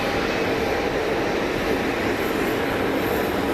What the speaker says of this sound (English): And a 220 on the roll